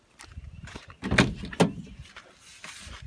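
A badly rusted passenger door on a 1985 Subaru Brumby is lifted and shifted, giving a few close scraping creaks and two heavier clunks in quick succession.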